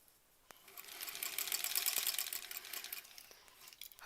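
A sewing machine stitching through thick quilt-block seams with many fabric layers, a close, steady, rapid mechanical whirring and chunking that runs for about three seconds before winding down and stopping.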